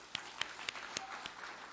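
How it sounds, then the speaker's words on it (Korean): A Korean church congregation in Milan claps during a special revival service, making a faint series of about six evenly spaced claps in a steady rhythm in a quiet hall. "우리 한번 박수 한번 하십시다."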